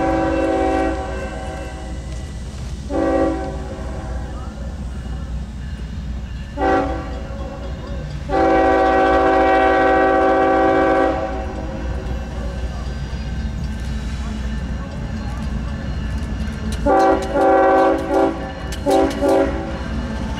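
Westbound freight train QY-38, headed toward Charlotte behind a pair of GE locomotives, rumbles steadily past at close range, sounding several loud horn blasts of varying length over the continuous rolling rail noise.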